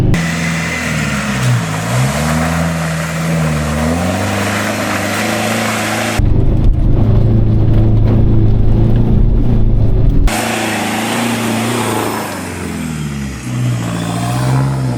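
A 4WD car engine revs hard and steadily while driving through rutted snow in high country, the pitch rising and falling, with a louder, rougher burst of strain in the middle before settling back to a sustained drone.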